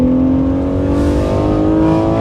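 BMW G80 M3 fitted with a Valvetronic HFD midpipe and valved exhaust, revving steadily with a loud, sustained droning engine note that holds and shifts slightly as the valves open and close, no voices.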